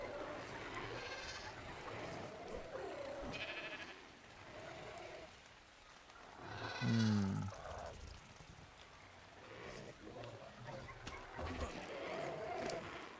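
Sheep in the video game ARK Survival Ascended bleat faintly over quiet game ambience, with one brief, clearer bleat standing out midway.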